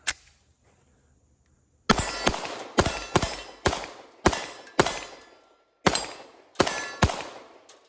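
Loud pistol shots from a Sig P320 and a Glock 19 handgun ring out after nearly two seconds of quiet, nine sharp cracks in uneven pairs and singles with short echoing decay, no talking.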